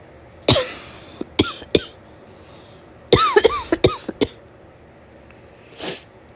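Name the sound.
woman coughing with a summer cold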